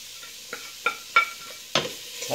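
Garden vegetables being stirred in a pot for a fish-head pirão made with dourado, a few short scraping strokes of a spoon over a soft background sizzle, close and alone.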